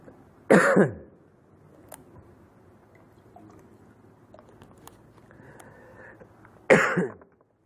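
Two loud, rough coughs with throat clearing during a mosque lecture, separated by several seconds of near silence with faint small noises.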